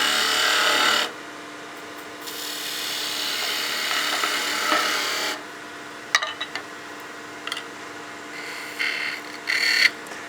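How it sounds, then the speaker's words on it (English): A skew chisel makes slicing cuts across wood end grain on a spindle being turned, giving a loud rasping shear at first, then quieter scraping with a few short sharp scrapes and brief bursts. "I'll grab my skew and do a slicing cut here on the end grain"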